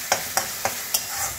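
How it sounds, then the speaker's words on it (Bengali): Garlic fries in a pan before fish is added, a soft sizzle punctuated by four quick, evenly spaced spatula scrapes. "রসুন যদি ভালো করে ভাজা না হয় তাহলে কিন্তু মাছে আসল টেস্ট পাবেন না।"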